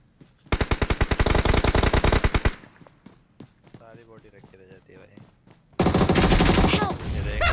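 Rapid automatic gunfire in the video game BGMI, a loud sustained burst of shots, a pause filled with players chatting, then another dense volley.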